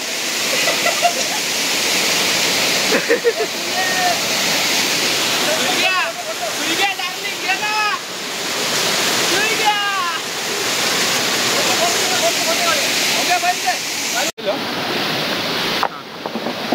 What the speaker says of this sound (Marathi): मागे हा तुम्हाला धबधबा दिसतोय